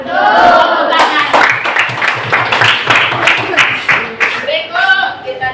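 Classroom applause from students, a burst of clapping mixed with voices and chatter throughout, fairly close and steady for several seconds.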